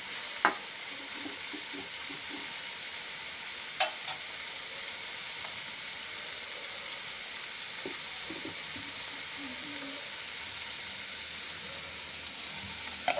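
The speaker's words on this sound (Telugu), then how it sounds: "అప్పుడప్పుడు అలా కలుపుతూ ఉంటే మాడకుండా బాగా వేగుతుంది." Bitter gourd pieces fry in a pan with a soft, steady sizzle, broken now and then by faint clinks and scrapes of stirring, heard quietly without any talk.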